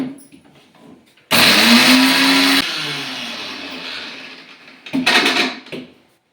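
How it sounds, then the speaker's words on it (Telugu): Electric mixie grinding mustard, sesame and fenugreek seeds to powder in a village kitchen, running in two loud whirring bursts: a longer one that winds down, then a shorter pulse. "పొడి చేసుకోవాలి మిక్సీకి"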